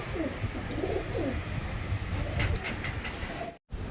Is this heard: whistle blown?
no